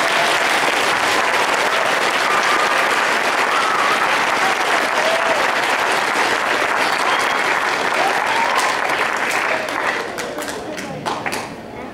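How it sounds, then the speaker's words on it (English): An audience at a fourth-grade children's recorder concert claps steadily for about ten seconds, a dense and loud wash of applause that thins into scattered claps at the end. "So if you would give them a big round of applause."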